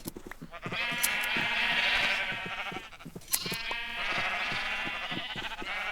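Sheep bleat repeatedly in Minecraft while being sheared in a pen, several wavering, nasal cries in two long bursts, fairly close and clear with small clicks between them.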